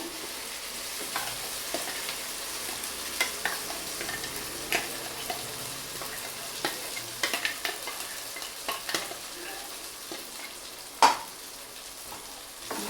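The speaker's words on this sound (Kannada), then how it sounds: "ಈರುಳ್ಳಿ ಸ್ವಲ್ಪ ಕಂದು ಬಣ್ಣ ಬರೋವರೆಗೂ ಫ್ರೈ ಮಾಡ್ತೀವಿ." Onions and ground masala frying in a pan for hotel-style white veg kurma, a low steady sizzle broken by frequent spatula scrapes and taps against the pan, with one louder clank near the end; no one speaks.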